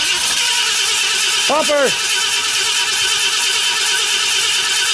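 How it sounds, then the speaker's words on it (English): A cold 1968 Ford Galaxie with its hood off cranks steadily at night, trying to start, with a constant rough rumble throughout and a short shouted word from a nearby voice partway through. "cold start on the 68. Go ahead, start it up"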